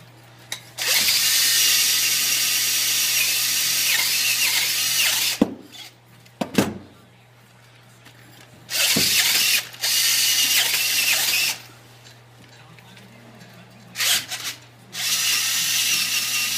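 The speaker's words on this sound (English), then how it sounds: "Hole's getting a little deeper, so we'll just keep drilling." Soapstone being drilled to deepen a carved hole, the power drill whirring in several long bursts separated by pauses, with short clicks between runs, close and loud, no talking.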